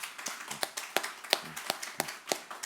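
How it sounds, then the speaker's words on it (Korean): Church congregation at a Sunday worship service in Tokyo clapping in a steady, even rhythm to welcome two pastors, crisp claps landing about three times a second. "우리 박 목사님, 유 목사님 이제 나오실 때 우리 박수로 우리 격려하도록 하겠습니다."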